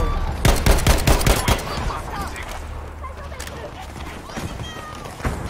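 Rapid bursts of gunfire in a first-person shooter with a Gewehr 43 rifle, a loud cluster of sharp shots in the first second and a half, then quieter scattered shots under faint background voices.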